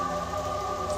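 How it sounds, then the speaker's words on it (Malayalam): Heavy rain falls outside in a steady, unbroken hiss at moderate level, with no voices over it. "പുറത്ത് നല്ല മഴയാ"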